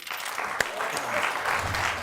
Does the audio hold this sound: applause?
yes